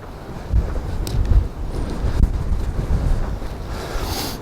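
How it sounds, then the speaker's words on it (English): Wind gusting at the seaside on a day of waves, a steady broadband rush buffeting the microphone with surf in the background, no talking. "if you can hear any wind, hard luck really"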